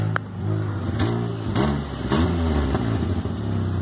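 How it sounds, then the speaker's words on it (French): Car engine idling while warming up before exhaust pipe repair paste is applied, a steady low rumble with uneven pulsing and a few faint blips of rising revs, up close. "On va laisser chauffer un peu le moteur pour pouvoir appliquer la pâte"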